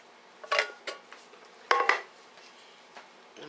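A spoon scrapes and clanks against a pot while round steak and onion are stirred, giving a few sharp metallic knocks in two loose clusters, close and fairly loud, with no talking.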